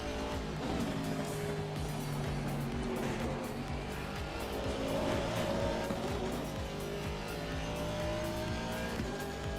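GT race car engine in an endurance race at Kyalami in Assetto Corsa Competizione, a continuous revving drone with repeated rising and falling gear pitches and faint tire noise, alone without speech.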